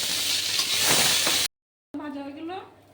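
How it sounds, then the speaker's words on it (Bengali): Onions and rice fry in a pan with a bright, steady sizzle for about a second and a half, then the sound cuts out and a voice speaks. "লাল লাল করে একটু ভেজে নেব।"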